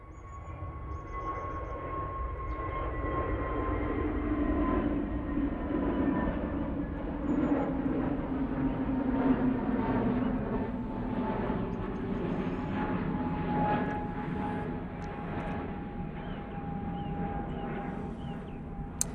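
An easyJet airliner takes off at Manchester Airport, a steady broadband jet roar with a sustained whine that holds at a moderate level for the whole stretch, heard at a distance with no talk over it.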